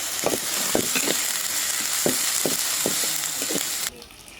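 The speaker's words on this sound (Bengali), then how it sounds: "এখন এটাকে ভালোভাবে কষিয়ে নেব যাতে আদা বাটা রসুন বাটা যাতে কাঁচা গ্রামটা না থাকে" Ginger and garlic paste fry in a pan for a duck curry, a steady close sizzle broken by several soft scraping stirs, then cutting off abruptly near the end.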